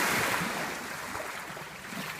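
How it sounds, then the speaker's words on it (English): Steady washing and splashing of small waves around someone wading along an eroded, muddy Lake Michigan shoreline, a continuous close broadband rush with no speech. "The waves are a little bit noisy because I'm walking right in them."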